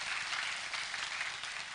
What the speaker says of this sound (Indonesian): Baik, kita berikan tepuk tangan Bapak dan Ibu.